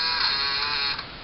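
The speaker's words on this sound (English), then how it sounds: "that was the sound of my camera starting up or switching off" A camera powers up or shuts down with a brief high-pitched electronic whine and buzz, faint and alone, fading after about a second.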